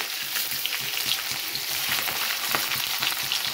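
Mustard seeds, cumin, sliced onions and green chilies fry in hot oil in a home kitchen, giving a steady close crackling sizzle with occasional sharper pops and the soft scrape of stirring throughout.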